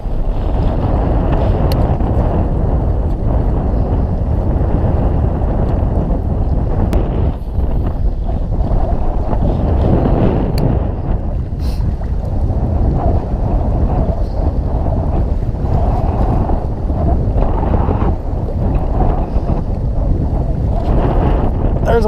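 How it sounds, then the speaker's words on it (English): Strong wind buffets the microphone on a bass fishing boat, a constant loud roaring rumble with gusting swells and faint water slaps throughout. "Man, crazy amount of wind."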